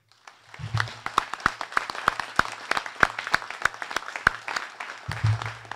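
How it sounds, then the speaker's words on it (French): An audience at a local trade fair in Lillebonne claps in sustained applause, sharp irregular claps forming a fairly close, moderately loud burst that carries on for several seconds, with brief low murmur beneath. "je souhaite qu'on applaudisse Monsieur Malandin, Monsieur Elie"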